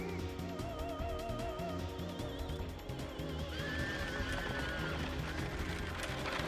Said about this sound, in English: You would think that horse would have stopped running by now